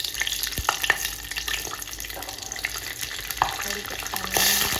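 Cumin seeds sizzle in hot oil for tempering, a steady crackling fry with occasional sharp pops and clinks of stirring, moderately loud and close, with no talk.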